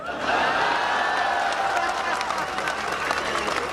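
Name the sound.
audience applause at a comedy poetry show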